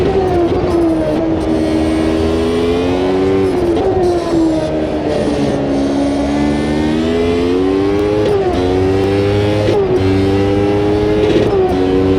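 Onboard a race car driven by Ayrton Senna through a run of corners, the engine screams loud and constant. Its pitch rises and dips with quick gear changes and lifts.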